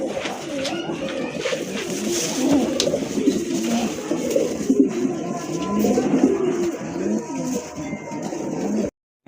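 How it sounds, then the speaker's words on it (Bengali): A pair of Indian Kashmiri Lotan pigeons coo repeatedly in soft, rolling, low phrases. The calls are steady and close, with faint background noise and a brief drop to silence at the end. "পুতুলের মতো সুন্দর এক জোড়া লোটন কবুতর, ইন্ডিয়ান কাশ্মীরি লোটন কবুতর"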